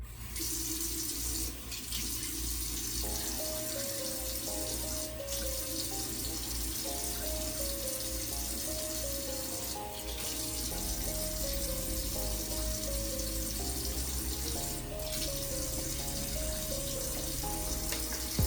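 Water pours steadily from a bathroom tap for the whole stretch while someone wets their face at the sink, a continuous close hiss with soft melodic background music underneath.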